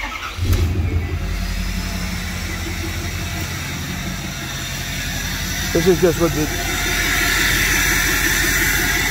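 A 2015 Ford F-250 Power Stroke diesel pickup with exhaust deleted idles in limp mode with a deep, rough, throaty rumble close by, briefly revving, while someone talks over it.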